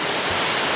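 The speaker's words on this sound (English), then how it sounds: "as we are going close to the waterfall" A waterfall in Tirthan Valley, Himachal, roars loud and close as a dense, steady rush of water with no voices.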